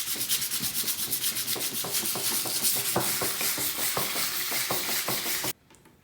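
A glitter countertop is sanded by hand with 150 grit sandpaper, making steady rapid rasping strokes in a close, loud, continuous rhythm that stops abruptly near the end.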